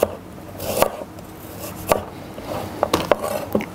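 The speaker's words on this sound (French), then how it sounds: "Nous allons maintenant tailler l'échalote en rondelles environ de 5 mm." A knife cuts shallot into rounds about 5 mm thick on a board, with sharp chopping taps arriving in an uneven sequence, several close together near the end, over a faint steady background.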